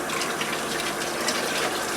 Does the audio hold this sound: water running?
yes